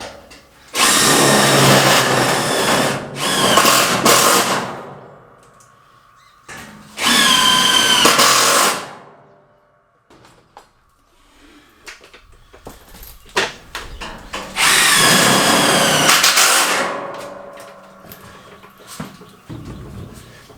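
A power drill drives tek screws into a stud while a solar battery bank room is built off-grid. It gives three loud, sustained whirring bursts separated by quiet gaps with light clatter between them.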